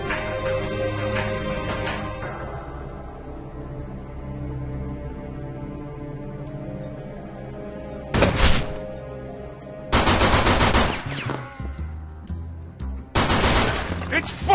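Gunfire in the Mafia II game's Chinese restaurant scene, with loud bursts of rapid automatic shots in three separate volleys after a stretch of low tonal music and ambience.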